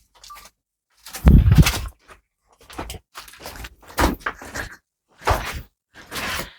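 A door opening at the entrance to a meditation cave in Laos, heard as several separate scraping and knocking bursts with short pauses between them, fairly close, with no talk.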